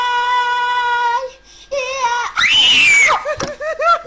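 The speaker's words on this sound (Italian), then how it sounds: "Che urla?" A young girl screams loudly and shrilly on stage while trying to sing, her wavering voice rising into a sustained high shriek with brief breaks and broken sobbing cries near the end.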